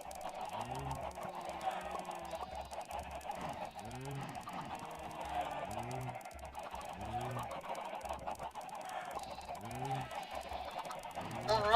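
Chickens in the video game Minecraft, a crowd of them making repeated short clucking and honking calls in uneven bursts over a constant busy background clatter.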